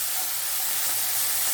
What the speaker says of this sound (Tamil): இதை நல்லா வதக்குவோம். ஒரு 2 நிமிஷம் நல்லா வதக்கலாம்.